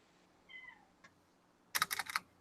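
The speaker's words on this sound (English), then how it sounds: "Oh, I hear a cat." A faint, short meow from a cat, then a quick burst of keyboard typing clicks close by in an otherwise quiet room.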